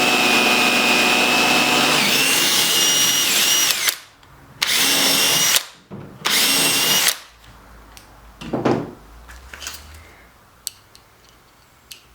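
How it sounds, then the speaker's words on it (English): A power drill drives screws into the gunwales of a cedar canoe, with three loud bursts of whirring about a second each, followed by a few softer short runs and clicks. "then start setting screws"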